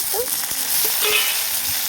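Tomato goes into oil with lightly fried onion, making a steady close sizzle with soft stirring touches over a short stretch, and no one speaks.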